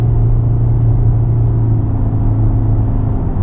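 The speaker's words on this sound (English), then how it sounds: "we're going on down the road in this 24 Toyota Corolla LE Hybrid" A 2024 Toyota Corolla LE Hybrid AWD cruises down the road, heard from inside the cabin as a constant low rumble of road and drivetrain noise with no talking.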